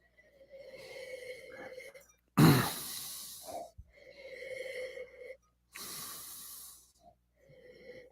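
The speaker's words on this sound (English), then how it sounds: "Let's do a little sniff here." Someone sniffing a glass of Pinot Noir during a wine tasting: close, breathy inhales in two sharp bursts, with soft murmured voice and breathing in between.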